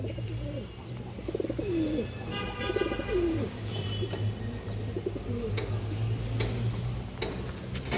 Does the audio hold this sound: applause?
no